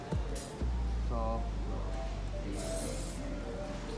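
Aerosol paint sprays onto a Tamiya Ferrari 458 Italia RC car body, a steady close hiss with brief bursts and a longer pass near the end.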